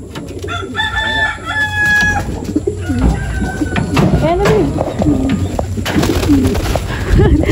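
Racing pigeons coo in throaty, repeated phrases at close range around a loft, mixed with a rooster's crowing and other bird calls, with a voice talking over them.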